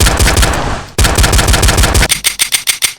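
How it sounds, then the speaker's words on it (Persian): Rapid gunfire in a video game with added shooting sound effects: a fast, loud continuous burst, a short pause, another burst, then about six separate pistol shots. "ولی اگر برم پیستوله تا 12 بار میتونم شلیک کنم."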